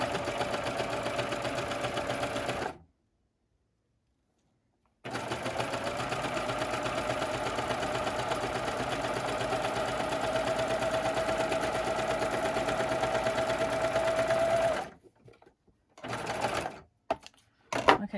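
A sewing machine runs in long steady bursts while stitching the seams of a newborn-sized elf outfit, with a pause early on and a few short stop-start runs at the end.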